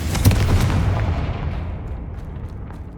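A Confringo fire spell blast from the video game Hogwarts Legacy: a loud, booming burst up close at the start that rolls into a long, fading rumble over several seconds.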